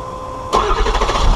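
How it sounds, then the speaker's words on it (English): A Ford Excursion's engine cranks and catches on a cold start partway in, after a quiet stretch with a faint pump hum, then settles into a loud, rough, uneven idle close by. "let's try this cold start again, without the camera messing up this time. Fuel pump's kicking on."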